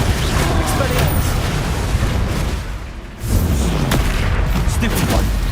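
Spell explosions in Hogwarts Legacy: continuous dense booming blasts and crackling impacts, loud and unbroken apart from a brief dip midway, with a voice shouting over the top.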